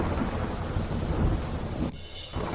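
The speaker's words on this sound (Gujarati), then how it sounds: "અનેક વિસ્તારમાં પવન સાથે પડ્યો વરસાદ" Steady rain falls with rumbling thunder across a Gujarat district during a windy shower. A dense, continuous roar stays loud for most of the stretch, drops briefly near the end, then returns.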